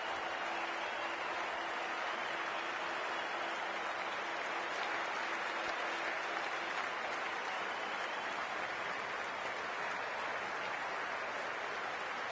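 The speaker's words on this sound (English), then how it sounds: "We're about to get underway and already the crowd is up and about." A large stadium crowd waits for an IPL cricket match to begin, producing a dense, steady roar of cheering and clapping that holds at an even level throughout.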